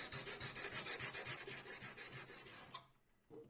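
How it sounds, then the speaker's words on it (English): A knife blade made from an old saw blade is sanded by hand, rhythmic close rasping strokes at a steady quick pace that stop abruptly near the end, followed by one faint scrape. "hand sanding"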